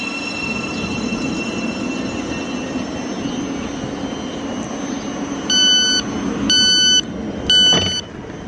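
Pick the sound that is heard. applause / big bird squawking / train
train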